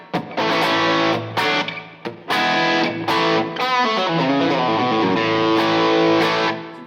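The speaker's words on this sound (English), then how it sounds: "This is the tone on full." A Fender Professional Telecaster Deluxe electric guitar with the tone knob fully open plays bright, distorted chords and notes through an AC30-style amp profile, ringing loud with brief pauses between phrases.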